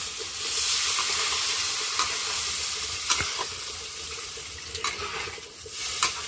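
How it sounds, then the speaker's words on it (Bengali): Water poured into a pan of sizzling fried potatoes and spices in a village kitchen, a broad hissing rush that stays loud and steady, with a few scattered clinks and stirring knocks near the end. "আলু আর মশলা ভালোভাবে লাল লাল করে কষানো হয়ে গেছে এখন আমি জল দিয়ে দিচ্ছি"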